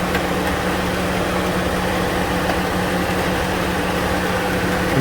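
A 2006 Dodge Ram 1500 quad cab's 3.7-liter Magnum V6 idles steadily up close, a continuous low engine drone with a constant hum and no talking over it.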